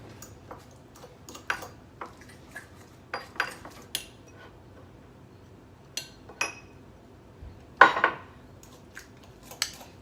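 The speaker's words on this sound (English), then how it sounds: "Let me give this a little stir." A spoon stirring lasagna sauce in a pot, heard as scattered clinks and scrapes of utensil against metal in an irregular rhythm, close by and moderately loud, with no talking.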